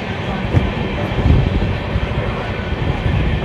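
Inside the Sairang–Delhi Rajdhani Express as it slows near a tunnel, a low steady rumble and rattle of the rolling train fills the carriage, with muffled voices faintly underneath.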